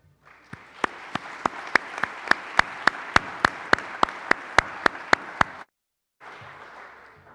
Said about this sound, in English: Please join me in one more round of applause for our Momentum Gold partners.